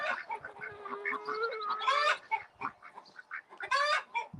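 Pet turkey calling outdoors in the morning, a series of close, loud clucks and warbling gobbles with a couple of strained, high rising calls.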